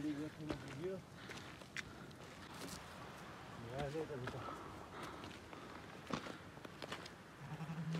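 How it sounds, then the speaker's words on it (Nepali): Sheep bleat a few times in short wavering calls, fairly distant, over outdoor wind noise and scattered footsteps, on the trek to Badimalika in Bajura, Nepal. "भेडाहरू छन्।"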